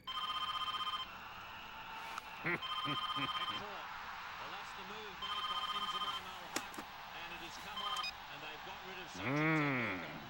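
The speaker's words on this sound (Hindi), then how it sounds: "रीडायल। It is ringing." A telephone ringing over a speakerphone after a redial, repeated electronic ring bursts with pauses between them, fairly faint, with brief voices and other sounds in the gaps.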